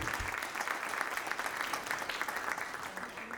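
Warm audience applause following an acrobatic robot performance, a dense steady wash of many hands clapping at an even level from start to finish.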